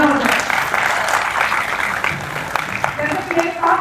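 Audience applause at a stage performance, steady clapping from a crowd heard up close for a few seconds without pause.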